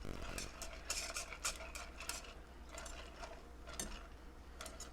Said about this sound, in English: So we're just going to let this cook down. Keep it stirred so it doesn't scorch.